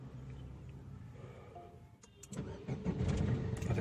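A car engine cranks and catches on a voice command, and the air conditioning comes on with it. A quiet interior with soft background music gives way to a sudden start and a fuller, steady idle rumble.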